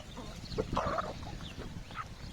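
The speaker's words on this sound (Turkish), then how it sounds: "Horozlar da bir yandan tavukların peşinde ya." A chicken clucks nearby in a few short bursts over a low background murmur of the yard, where roosters chase hens.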